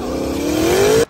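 A BMW race car with a roll cage revs its engine hard, pitch climbing steadily in one loud, close rev before cutting off abruptly into near silence.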